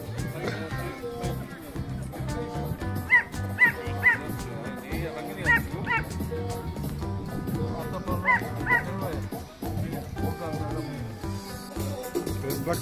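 A dog at a dog beauty contest plays, giving scattered sharp barks, yips and whimpers amid ongoing human talk and general background noise.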